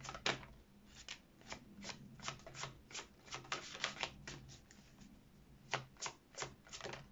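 A deck of cards being shuffled for a card draw: a series of quick riffling bursts in an irregular rhythm, close and fairly quiet.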